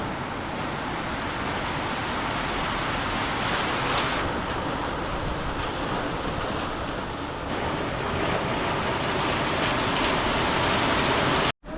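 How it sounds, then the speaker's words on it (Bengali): Heavy rain falls outside in a dense, constant hiss that stays steady and fairly loud for the whole stretch, with no speech. "প্রচুর জোরে বৃষ্টি নেমে গেছে"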